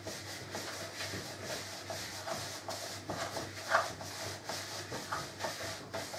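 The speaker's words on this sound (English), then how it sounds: "while you're stirring the butter and sugar together" A wooden spoon stirs butter and sugar together in a bowl for cookie dough, giving a steady rhythmic rubbing and scraping, soft and close, with faint room hum beneath and no talking.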